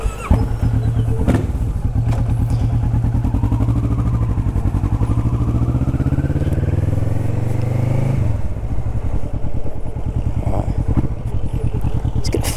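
Kawasaki Vulcan S motorcycle engine idling close by with a throbbing, rhythmic pulse, rising and falling through revs before settling, with a few sharp clacks over the steady beat.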